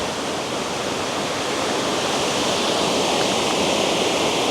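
A waterfall in South Tennessee roars as a dense, steady rush of falling water, loud and unbroken throughout with no voices.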